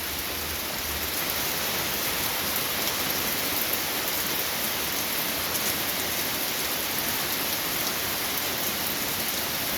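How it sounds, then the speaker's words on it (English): Heavy rain pours down in a loud, unbroken roar, thick with drops drumming on nearby surfaces. "lots of rain."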